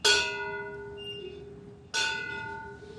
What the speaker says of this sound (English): included tolling of the bell